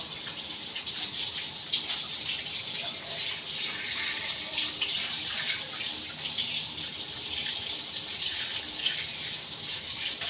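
Tap water runs steadily into a kitchen sink during cleaning, a continuous hissing splash with small fluctuations as the flow is disturbed, moderately close and alone.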